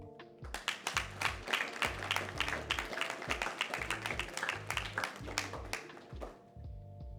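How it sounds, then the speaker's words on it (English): An audience at a graduation ceremony applauds, a dense sustained clapping that holds steady for several seconds before thinning out toward the end, heard from within the room. "I'm going to ask that you give yourselves a round of applause for being here for them when they need you the most"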